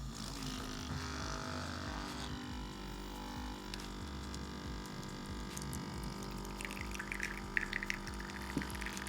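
A Cisno portable Nespresso maker brews espresso into a small cup with a steady pumping hum and strained buzzing drone, ending in faint sputters, with no talking.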